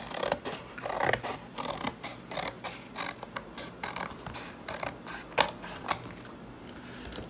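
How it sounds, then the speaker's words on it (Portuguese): Scissors snip through the side of a cardboard box in a steady series of close, crisp crunching cuts with short pauses between strokes, with no voices. "Aqui agora, vamos cortar essa lateral."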